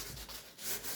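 Sandpaper rubbed back and forth over a surface by hand, faint uneven scratchy strokes rising and falling close by, with no voices.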